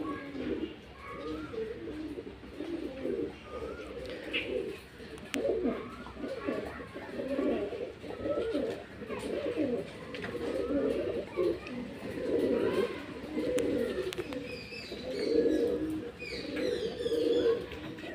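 Fancy loft pigeons, including fulshira birds, coo steadily and close up in a series of low, rolling calls, with faint background noise throughout.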